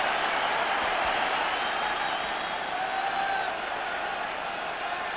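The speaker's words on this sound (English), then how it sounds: "The crowd are delighted as well." A large stadium crowd at the 1993 Wales versus England rugby match roars and applauds steadily, a dense, continuous wash of cheering that eases slightly toward the end.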